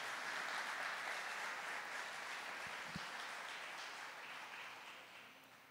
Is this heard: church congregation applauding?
yes